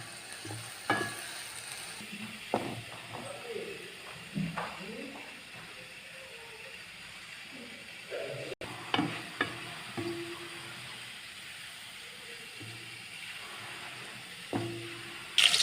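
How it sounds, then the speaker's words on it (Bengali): Chopped onion and paste fry on low heat in a pan, a quiet sizzle broken by occasional scraping stirs and light clinks. "অল্প আঁচ দিয়ে ভালো করে এটাকে ভেজে নেব।"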